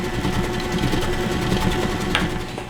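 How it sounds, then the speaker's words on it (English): Toll House chocolate chip cookie dough is being mixed, with a steady mechanical whirring hum running throughout and a faint click near the end. "I'm going to mix that one in."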